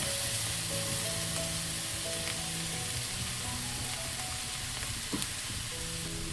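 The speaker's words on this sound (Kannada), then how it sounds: "ಈ ಟೈಮಲ್ಲಿ ನಾವು ಬೇಯಿಸಿಟ್ಕೊಂಡಿರೋ ಕಾಳು ಮತ್ತು ಬಾಳೆದಿಂಡನ್ನ ಸೇರಿಸ್ಕೊಳ್ಳೋಣ" Cooked horse gram and banana stem added to onions frying in oil, giving a steady moderate sizzle with faint stirring and a brief clatter near the end, no voices.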